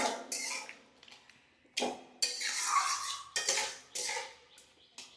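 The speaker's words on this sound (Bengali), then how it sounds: "এরকম খুন্তি দিয়ে একটুখানি এটাকে একটু ডলে দেবে, হাতার পিঠ দিয়েও করতে পারো।" A spatula scrapes and knocks against a pan while sweet potato chutney is mashed. The sound is a series of irregular metallic clinks and scrapes with short rests between them, and no one talks.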